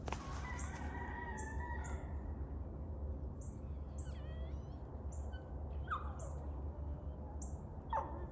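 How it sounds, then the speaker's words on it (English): Farmyard chickens cluck and a rooster crows several times against a low rumbling background, the calls spaced out and moderately distant, with a dog whimpering among them. "Look at all those chickens."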